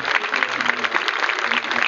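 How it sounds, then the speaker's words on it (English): Steady, dense applause from a crowd at a sports opening ceremony, a continuous crackling wash of clapping that holds evenly throughout. "Big round of applause, please, ladies and gentlemen."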